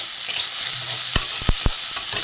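Ground spices and grated ginger with turmeric, cumin, coriander and chili powder being stirred in a hot pan, a soft steady sizzle with a few sharp spoon-scrapes against the metal, close by and without talk.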